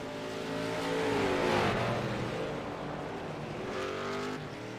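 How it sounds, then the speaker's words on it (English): Trans Am race cars at Mount Panorama roar down the straight side by side, engines howling loud and close with rising pitch, a sustained full-throttle drag past the listener with no talk over it. "forced to back out against Will Parrish as they drag raced it down the stretch."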